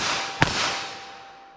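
.22 WMR Max-Mag rimfire round fired outdoors at a steel target: one sharp, loud crack near the start, followed by a fading outdoor echo and quiet background.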